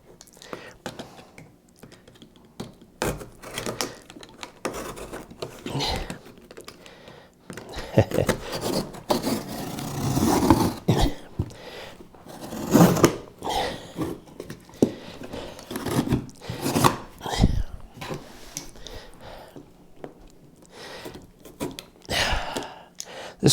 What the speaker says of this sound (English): So let's just unbox it real easily here.